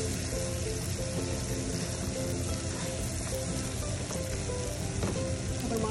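Shrimp and chopped onions fry in a pan for a shrimp dopiaza, giving a loud, continuous, close sizzle with no talking.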